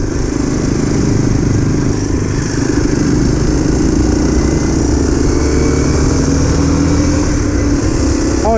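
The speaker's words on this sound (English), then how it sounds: "Always have some fun on the KLX 230." A Kawasaki KLX 230 motorcycle rides off-road with a loud, steady engine drone throughout, rising and falling slightly with throttle, close to the mic and with no talking.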